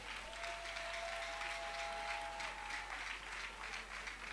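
A church congregation applauds in praise, a steady wash of many hands clapping at moderate distance with a sustained held tone running beneath it, unbroken for the whole stretch.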